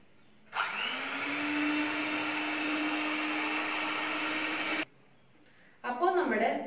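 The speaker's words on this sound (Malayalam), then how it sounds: "ഇത് നന്നായി ബീറ്റ് ചെയ്യണം." An electric hand mixer beats two eggs with sugar, a loud steady whir that holds for about four seconds and then cuts off abruptly. A short burst of other noise follows at the end.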